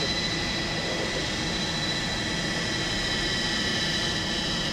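Avro Vulcan XL426 jet bomber engines roaring during a high speed taxi run, a loud, steady, broadband jet rumble and whine that fills the whole stretch without letting up, with no voices over it.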